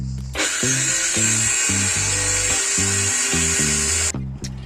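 During a van conversion, a power tool makes an angled cut, giving a loud, close, high-pitched whine that holds steady for about four seconds over a stepping, lower-pitched hum before cutting out.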